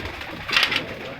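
Pigeons at a rooftop loft, high-flying breed birds, give a brief burst of cooing and wing-flutter calls midway through, fairly close, over a steady background hiss.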